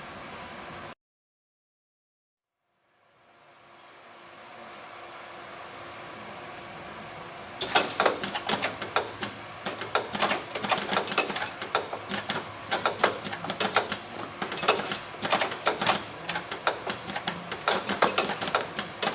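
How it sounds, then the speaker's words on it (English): A trigger release testing machine starts up with a rising whir, then runs with a fast, steady train of mechanical clicks and ratcheting clatter, loud and close, with no talking. "We can get this release going, or the tester going, and we can actually see how it works."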